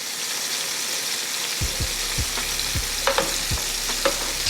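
Shrimp sear in a hot Hex-Clad non-stick pan, giving a steady close sizzle with a run of short low knocks and scrapes as the pieces are turned and moved.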